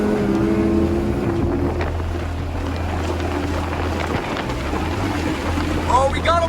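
A jet jon boat roars under hard acceleration in a drag race on open water, its engine droning steadily and loud with heavy wind buffeting the microphone throughout.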